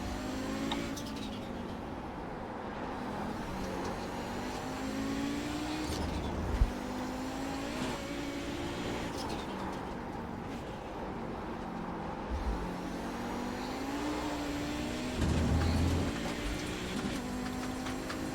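Race car engines in a vintage IMSA sim race at Mid-Ohio, an Audi 90 GTO among them, drone steadily with pitch sweeps as faster cars close in, with a few short bumps and thuds.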